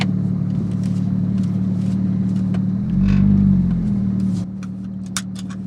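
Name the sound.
straight piped Porsche GT3 exhaust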